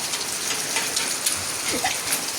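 Steady rain falling outdoors, a dense continuous hiss of drops pattering on surfaces, with no voices.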